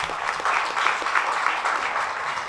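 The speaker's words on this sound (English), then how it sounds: "A big round of applause for Mr. Panju." An audience claps steadily, a dense wash of applause from a sizeable crowd that holds at an even level throughout.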